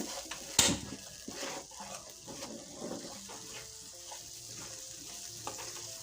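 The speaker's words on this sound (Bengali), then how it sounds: "এখন এদিকে মশলাটা তেলের মধ্যে একটু কষিয়ে দিচ্ছি" Blended spices frying in hot oil for a pangas fish curry with radish and turnip: a sharp loud burst as they hit the pan, then quieter sizzling with intermittent stirring scrapes and clinks, close by.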